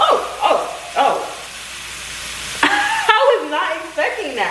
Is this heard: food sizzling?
yes